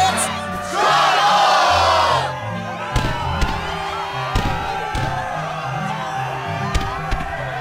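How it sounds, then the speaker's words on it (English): Crowd at the Struggle tournament in the Kingdom Hearts 2 video game: a burst of loud cheering and shouting that swells for a couple of seconds, then fades under music and sharp thuds. "Yes, the crowd is fired up, so you know what comes next."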